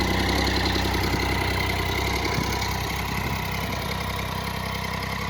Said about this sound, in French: Vous avez vu comment il ronfle ce moteur?